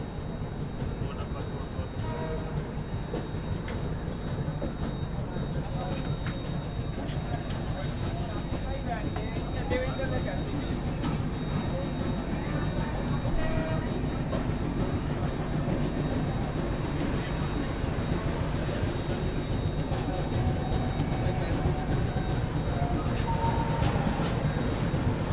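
A Rajasthan Humsafar Express train pulls out of Ringas station with a steady, continuous rumble and rattle that holds throughout, while people talk over it.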